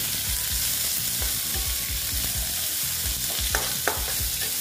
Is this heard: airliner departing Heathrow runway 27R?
no